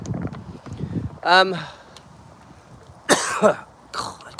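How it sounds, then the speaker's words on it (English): Two harsh, close coughs break out a couple of seconds apart, the second rougher and longer, with muffled rustling between. "Still got this cough."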